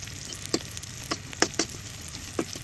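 Lots of garlic fries in oil in a pan on an electric stove, a soft continuous sizzle broken by a few crisp spatula taps and scrapes, close and without talk.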